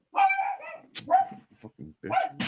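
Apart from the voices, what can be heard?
dog barking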